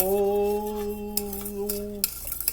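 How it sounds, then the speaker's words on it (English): Homemade spiked eggnog being stirred, a steady droning hum for about two seconds followed by light, close clinks and scrapes of a utensil against the container. "And we're stirring and we're stirring"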